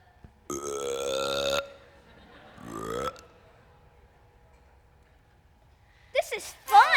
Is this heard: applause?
no